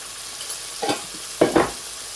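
Fish masala is stirred in a hot pan over a low sizzle, a few quick scraping strokes arriving in two bursts, the later pair louder and closer.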